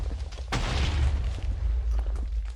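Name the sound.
cannon firing explosion in Minecraft Race for Wool (video game)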